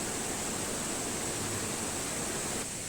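A heavy waterfall at the Kali Jompo plantation in Jember rushes as a dense, steady roar that fills the whole clip with constant broadband noise and no voices.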